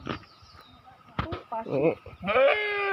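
Sheep bleat twice in wavering, nasal calls, the second longer and louder, with some people talking Filipino nearby.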